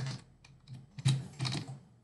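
Typing on a computer keyboard while setting up a Minecraft game: a close, quiet cluster of clicking keystrokes in irregular bursts, with a few louder taps near the middle.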